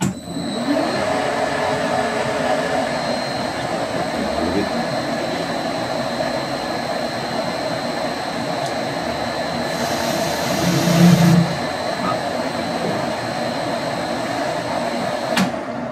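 A powered lathe slotter runs on a variable frequency drive, giving a steady motor hum and whine throughout with a brief louder burst near the middle.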